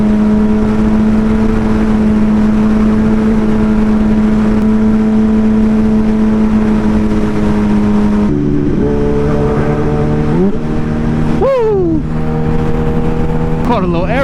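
A car drives fast along an empty highway, its steady engine drone buried under loud, constant wind roar. Near the end the engine pitch drops and then sweeps upward a few times.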